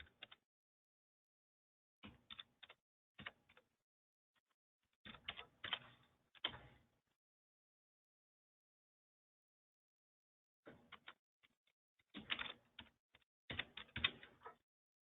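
Computer keyboard keys tapped in several short bursts of clicks with pauses between them, faint and close in a quiet room, no voices.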